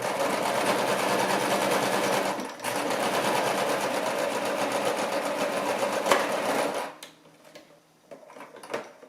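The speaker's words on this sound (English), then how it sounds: "I'm just going to seam that seam right there" A sewing machine stitches a seam in old denim jeans, running in a steady fast whir for about seven seconds with one brief pause, then stopping and leaving a few faint clicks and handling sounds.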